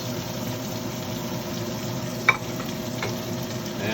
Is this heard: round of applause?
no